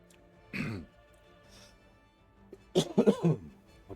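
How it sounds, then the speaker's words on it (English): Someone coughs after a sip of drink went down the wrong way: one short cough, a quiet pause, then a burst of several harsh coughs and throat clearing close to the mic. "and now I'm coughing forever."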